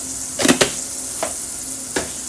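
Ground coriander and chilli masala for a fish curry being stirred in a pan, heard as a low steady sizzle broken by a few sharp scraping clicks of the spoon, close and clear with no talking.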